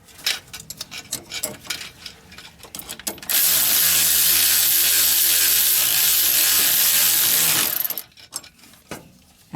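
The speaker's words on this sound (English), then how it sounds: "So I'm gonna tighten that nut now" An 11 millimeter nut tightened onto a school bus air suspension leveling valve, with scattered ratcheting clicks giving way to a loud, steady buzzing run from a power tool for several seconds before more clicks and clatter.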